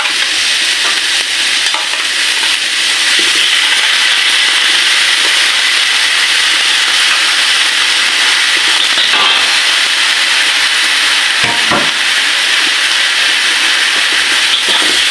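Milkfish going into a simmering pot of sinigang with lemon, a steady loud hiss and bubbling with stirring noises and a couple of sharp clatters near the end, no talking.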